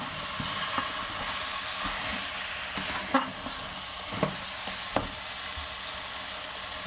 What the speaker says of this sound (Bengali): আমি কুকারের মধ্যে সুন্দর করে কষে নেব।